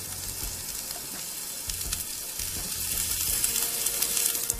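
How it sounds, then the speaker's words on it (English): Diced onions hitting hot shimmering olive oil in a pan, giving a continuous close sizzle that builds slightly louder, with faint occasional stirring and no speech. "Time to add my onions."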